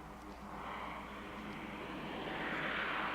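A propeller airplane engine drones steadily in flight over Papua New Guinea, a continuous loud hum that swells slightly toward the end, with no voices.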